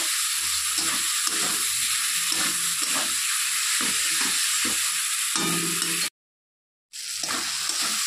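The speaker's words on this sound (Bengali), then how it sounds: "আলু দিয়ে আবার একটু ভালো করে কষিয়ে নেব।" Fried potatoes sauté in a hot pan for a fish curry, with a constant loud sizzle and hiss under rhythmic spatula scraping. The sound cuts out briefly near the end, then the sizzle returns.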